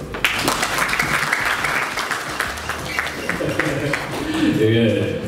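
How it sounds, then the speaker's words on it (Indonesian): A seated audience at a football league launch event in Central Java applauds, steady clapping of many hands with voices murmuring underneath and rising toward the end. "Nuwun tepuk tangannya dong."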